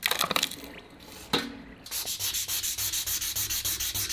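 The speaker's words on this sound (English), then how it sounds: "the surface is refined using 400 and 800 grit sandpaper, followed by finer polishing" Sandpaper of 400 and 800 grit rubbed over the steel of an old German fire axe during a rust restoration, a quick scratch or two followed by steady rhythmic back-and-forth strokes, close and alone.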